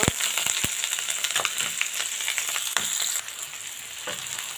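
Green chilies, chopped onion and garlic fry in hot oil for a chickpea curry, giving a steady close sizzle with a few sharp pops and stirring clicks throughout, with no talking.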